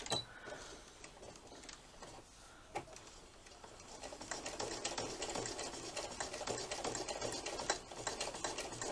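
A sewing machine stitches through a felt and card owl clock, a quiet run of rapid mechanical clatter that starts hesitantly, then builds into a steadier, denser whirr, close and faint, with no talking.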